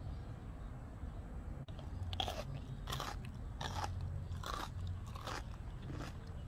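Close, crisp bites and crunchy chewing of quick-pickled sour mustard greens, cured about eight hours, repeating in several distinct crackling bursts over a low steady background with no talking.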